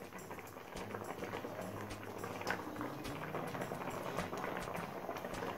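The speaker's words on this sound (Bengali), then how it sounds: "পাটিসাপটা দিয়ে আরও 2-3 মিনিট ফুটিয়ে নিয়েছি।" Patishapta simmering in boiling milk, a soft continuous bubbling with faint crackles and pops, quiet and close with no voices.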